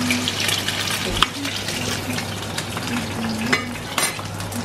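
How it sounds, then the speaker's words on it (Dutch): Food sizzles in a pan while a utensil scrapes and clinks now and then, with faint running water in the background. "Aan het koken."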